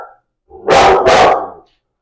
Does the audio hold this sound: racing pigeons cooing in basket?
no